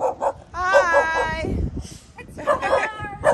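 A puppy gives high, wavering whimpers and a few short yips at close range, mixed in with a person talking nearby.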